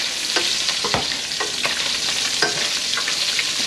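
Bacon fries in a pan with a steady, close crackling sizzle, punctuated by a few sharper pops and stirring scrapes.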